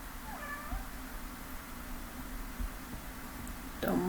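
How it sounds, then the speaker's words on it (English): A pet cat meows a few times in a quiet room over a soft background hum, with a louder, closer meow near the end. "Don't mind, that's my cat."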